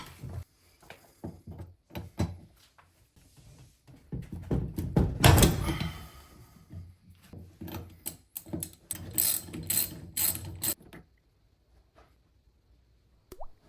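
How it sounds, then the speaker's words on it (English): Sink faucet valves being unthreaded counterclockwise give off intermittent ratcheting metallic clicks and scraping. The clicks come in irregular bursts with a louder clatter midway, then fade to near silence. "We are turning the valves counterclockwise to unthread them."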